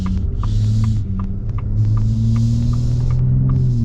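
A 2025 Shelby Raptor truck's EcoBoost engine with trombone exhaust, a deep steady rumbling drone with a throbbing low hum and faint rhythmic ticking, close and continuous.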